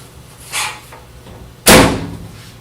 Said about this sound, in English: close the door up